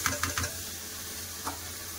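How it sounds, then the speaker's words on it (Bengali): Boiled cabbage stir-fried with spices in a pan, giving a low steady sizzle with a few scraping stirs near the start and one more near the end, close and moderate, with no talk. "আবার সিদ্ধ করে রাখা বাঁধাকপি দিয়ে দেবো।"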